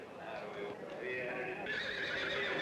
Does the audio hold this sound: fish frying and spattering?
no